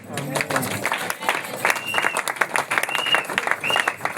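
A church congregation celebrating the church's anniversary applauds and cheers, with dense clapping, shouts and voices rising together in a lively, continuous roar.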